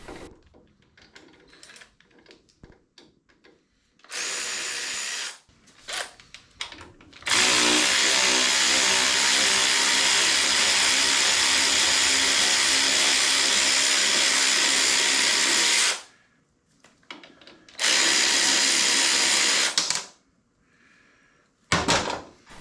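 A power tool loosens a rear shock bolt on a 1981 Harley-Davidson FXS-80 Low Rider, with a short burst, then a loud sustained run of about nine seconds, then another burst, separated by quiet gaps with small clanks.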